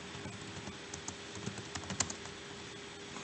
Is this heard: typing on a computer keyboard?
yes